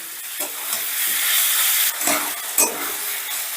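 Garlic, onion and tomato masala frying loudly in a pan, a close, hissing sizzle broken by a few scraping stirs.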